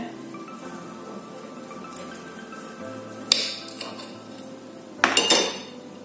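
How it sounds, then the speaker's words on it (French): Knife cutting through a meatball on a plate, with soft scraping and a couple of sharp metallic clinks of cutlery against the dish, close and alone. "Je vais donc prendre une boulette et je vais couper, que vous voyez un peu l'intérieur."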